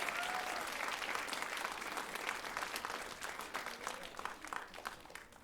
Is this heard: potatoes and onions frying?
no